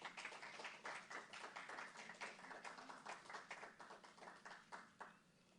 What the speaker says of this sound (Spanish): ¿Cuánto le dan una ofrenda de palmas al Señor?